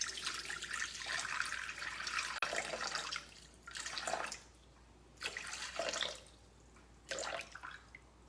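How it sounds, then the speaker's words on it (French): Boiling water poured into a bowl while weighing out 350 g for a quick recipe, heard as several separate bursts of splashing, trickling pour with short pauses between, close by and fairly quiet, with no talking. "Mes 350 g d'eau bouillante, donc je viens de faire chauffer l'eau"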